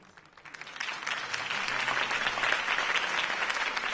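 A crowd breaks into applause that swells quickly and holds steady, dense clapping heard at moderate distance with no talking, in the Batman season 1 video game after a political campaign speech.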